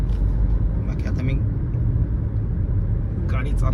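A car drives along the road, heard as a steady low engine and road rumble from inside. It is continuous and fairly loud, with no clear talk.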